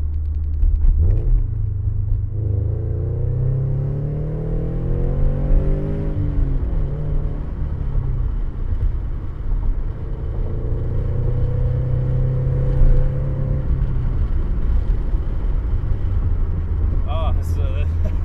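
A flex-fuel Scion FR-S / Subaru BRZ engine pulls hard under acceleration, its rising and falling harmonic drone loud and steady from inside the car, with a gear change midway and another climbing run.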